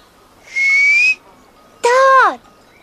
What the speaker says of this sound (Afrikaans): Ek het net nou gefluit.